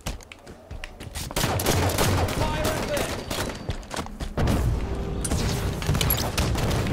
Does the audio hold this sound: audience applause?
no